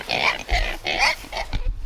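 Several pigs on a farm grunting and snorting up close in short, repeated bursts with brief gaps between them, and no talking over them.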